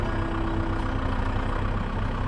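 Tractor engine running steadily while pulling a horse out of ice, a continuous loud low idling drone with a faint tonal hum and no pauses.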